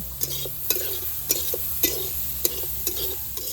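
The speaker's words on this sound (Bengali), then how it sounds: "এবার দুটো উপকরণ ভালো করে মিশিয়ে নেব" Grated coconut and jaggery are stirred in a hot pan: a spatula scrapes in a regular rhythm of about one stroke every half second over a soft, continuous sizzle, close and with no voices.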